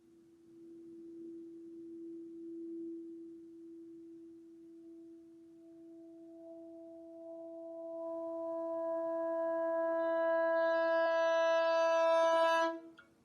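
A single sustained reed tone starting very soft and swelling steadily louder, growing brighter and richer before cutting off abruptly at the peak.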